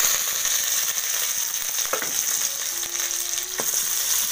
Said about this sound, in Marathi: चला आता फोडणी करून ठेवूया